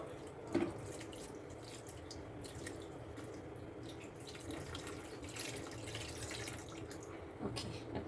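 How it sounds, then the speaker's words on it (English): Rinsed spinach water pours into a cooking pot for palak paneer, a soft, steady trickle and splash with an occasional brief gurgle, quiet and close. "I'm just adding in the rinsed spinach water."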